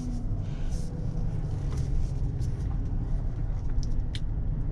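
A 2024 Chevrolet Suburban Z71 making a full-lock turn in a circle, a steady low engine and road drone with faint tire noise, heard from inside the vehicle and continuous throughout.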